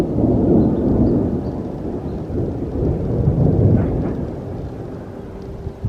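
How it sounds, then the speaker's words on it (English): Loud thunder rolls and rumbles continuously through the whole stretch, a deep booming swell near the start and another around the middle, heard in woods near a rented yurt with no one speaking. "that's some loud thunder"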